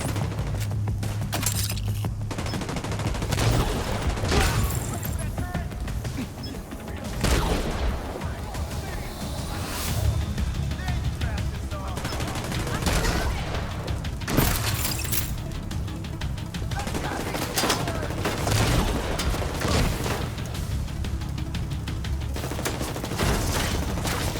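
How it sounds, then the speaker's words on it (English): Gunfire in the video game The Division 2, with repeated bursts and single shots cracking over a constant battle din, joined by mechanical clanks and low booms throughout. "Firing on target!"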